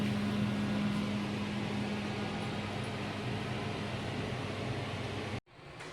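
Steady, close whoosh of an electric fan blowing over a cooling rice ladoo mixture, a constant airy hum with a low tone that cuts off abruptly near the end.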